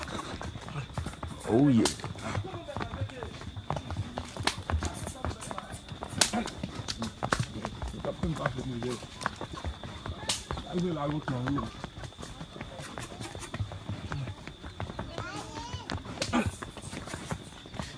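Horse hooves clip-clop while riding a skinny horse, an irregular run of hoofbeats close by that continues steadily under frequent talk from a man.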